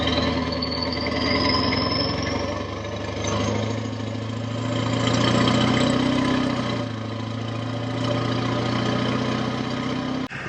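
A 7.3 Powerstroke diesel pickup truck engine with dual exit exhaust idles steadily nearby, a deep rumbling note holding even throughout with slight swells, no talking.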